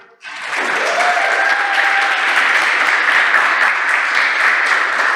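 A full room of audience members at a live journalism event bursts into loud, dense applause that starts abruptly and holds steady for five seconds, with a sustained tone faintly running underneath.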